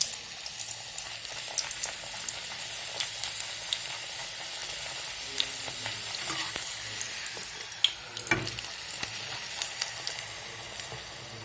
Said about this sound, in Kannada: ಲಟ್ಸ್ಕೊಂಡಿರೋದು ಪೂರಿ ಹಾಕ್ತಾ ಇದ್ದೀನಿ